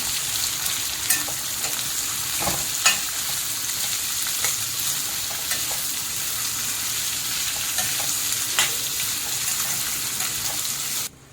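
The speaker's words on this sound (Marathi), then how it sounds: "कांदा पण चांगला परतून द्यायचा" Chopped onion sautéing with garlic in a pan for a monsoon kantoli vegetable curry, a constant loud sizzle with scattered clicks of stirring, no voices, cutting off abruptly at the end.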